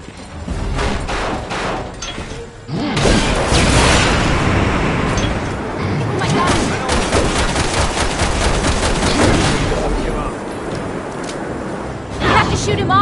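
Gunfire in the video game Resident Evil 6, with rapid bursts of shots and booming impacts over a loud, busy battle, heavy in the middle stretch and easing toward the end.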